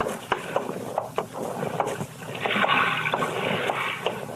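A boat on open water heard from its deck, with soft wooden creaks and knocks, water sloshing against the hull, and a fuller wash of water swelling toward the middle of the stretch.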